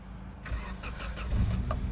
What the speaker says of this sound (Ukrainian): Заводиться автомобіль чудово.